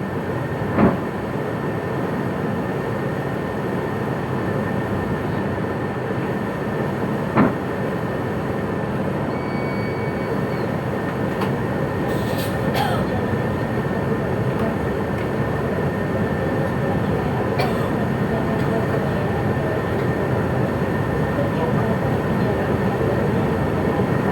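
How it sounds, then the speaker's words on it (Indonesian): A KRL commuter train on the Solo–Yogyakarta line sits at a station, giving a steady low rumble and hum with a few sharp clanks and brief high squeals, while faint voices sound in the background. "komuter dengan tujuan akhir Yogyakarta segera diberangkatkan kembali"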